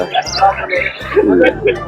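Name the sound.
birds calling at a bird market: pigeons, love birds, guinea fowl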